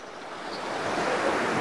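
Rushing water from a waterfall along a hill road, a dense, steady hiss and roar that swells slightly over a short moment, close and fairly loud, with no voices.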